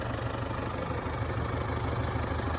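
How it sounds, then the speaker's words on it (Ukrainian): A Galtech front loader tractor's engine runs steadily at idle, a low continuous rumble with mild vibration, close by and alone with no talk. "Тестуємо зараз фронтальний навантажувач Галтех."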